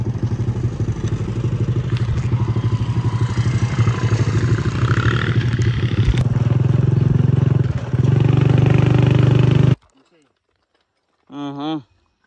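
A motorcycle with a loud exhaust rumbles up close in a continuous, heavy drone for nearly ten seconds before cutting off abruptly, followed by a brief spoken voice.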